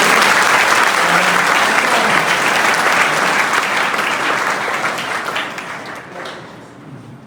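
Loud, sustained applause from a large crowd, dense clapping that holds steady before thinning out and fading near the end.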